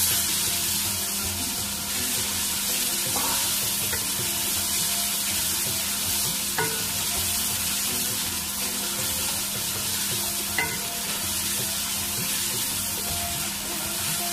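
Peas sizzle and fry in a pan with mixed vegetables of carrot, potato and fenugreek, giving a steady close hiss with occasional light stirring clinks throughout.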